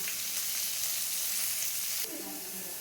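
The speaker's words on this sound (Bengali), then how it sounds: "পেঁয়াজটা আমার ভাজা হয়ে গেছে" Steady, close sizzling of salted onions frying in hot oil, a dense crackle throughout with a slight shift midway as if stirred.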